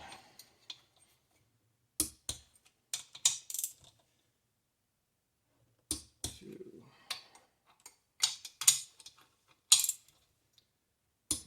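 A torque wrench is checked on the cylinder head bolts of a Kohler Magnum M18 engine, sharp metallic clicks and ratcheting in scattered short bursts, close and quiet with silence between.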